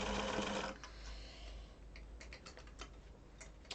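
A sewing machine runs a short back stitch on a kid's Henley shirt placket, a brief burst of quick needle chatter followed by quieter, scattered clicks as it stops.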